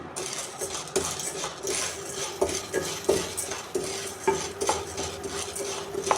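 Ingredients for homemade gram flour roast in a pan on low heat, with a spatula scraping and stirring in repeated metallic strokes over a soft background hiss.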